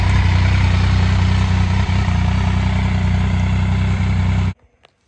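A Triumph motorcycle engine running steadily after its first start in 24 years, a loud, close, even idle that cuts off abruptly near the end, leaving a few faint clicks.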